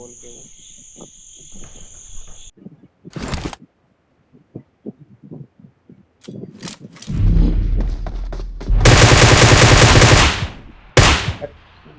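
Gunfire in a battle royale mobile game, with single shots early on, then a loud sustained burst of rapid automatic fire and a final blast, over a steady insect-like chirp.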